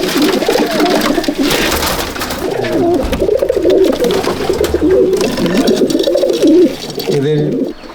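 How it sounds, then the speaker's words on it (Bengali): Dowbaz pigeons in a loft coo repeatedly in low, throaty rolling calls that overlap throughout, close and fairly loud, with a person talking over them. "দোবাজ পায়রা দেখুন"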